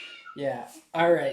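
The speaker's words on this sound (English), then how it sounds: "If you hear lots of meowing, that's Pong" A pet cat named Pong meows in two drawn-out calls close to the mic, with a voice speaking briefly over them.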